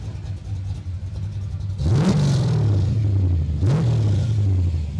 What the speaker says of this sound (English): All right, now rev it.